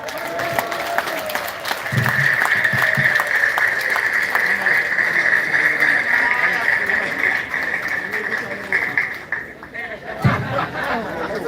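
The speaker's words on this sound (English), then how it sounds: "Another round of applause for him." Delegates at a political gathering in Uganda applaud a speaker, a broad wash of crowd clapping mixed with chatter and voices that carries on for over ten seconds.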